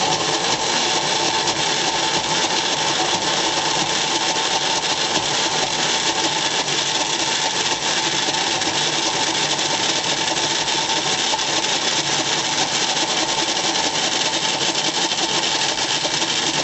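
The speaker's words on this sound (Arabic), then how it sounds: "ضل بفرم حتى تصير ناعمة الملمس مثل زبدة الفستق التجارية" A food processor grinds pistachios into smooth pistachio butter, a loud, constant whirring motor drone that runs unbroken from start to finish with no talk.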